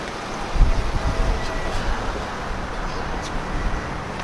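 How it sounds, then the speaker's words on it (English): Gusty outdoor wind buffeting a microphone at a crowded street protest, a steady low rumble with occasional louder gusts and faint traffic in the background. "Sorry guys, I know it's windy."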